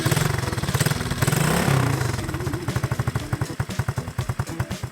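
A Coleman AT125x youth ATV engine runs close by, a loud rough rumble that settles into an even, rapid pulsing idle; no talking.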